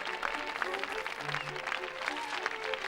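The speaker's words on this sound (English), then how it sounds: "the cheers of the crowd went to Hobart's head" Crowd cheering and clapping in a comedic staged scene, a steady dense wash of applause and cheers with a few scattered voices over it, moderately loud throughout.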